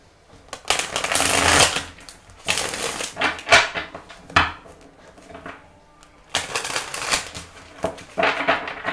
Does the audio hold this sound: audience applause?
no